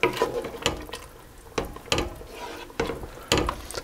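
A spoon stirring steak and mushroom pie filling in a pot, giving a few sharp scraping knocks at irregular intervals with soft bubbling between, close by and fairly quiet.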